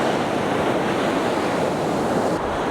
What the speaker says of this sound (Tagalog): Nagre-ready na sila sa mga dambuhalang alon na yan.